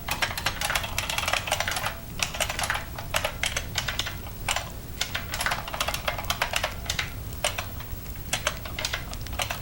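Rapid, steady typing on a computer keyboard with mislabeled keys, close and alone, with dense clacking keystrokes and brief pauses throughout.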